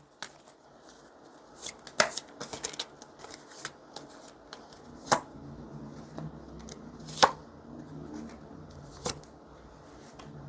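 Tarot cards being shuffled and drawn during a reading: a run of soft papery riffles and slaps with several sharper snaps as cards are laid down, close and fairly quiet, with no talking.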